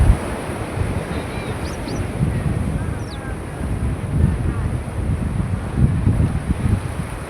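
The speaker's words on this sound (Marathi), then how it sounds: "लाटा बघा" Sea waves wash onto the Konkan shore near Redi village in a constant rumbling surf with wind buffeting the microphone, and faint voices in the background.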